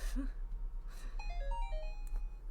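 A phone ringtone plays a quiet, high melodic run of beeping notes after some faint shuffling.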